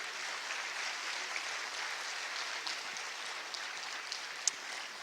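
Sustained audience applause fills a forum hall at an international peace and security event in Dakar, a steady dense clatter of many hands with no gaps and a few sharper claps standing out.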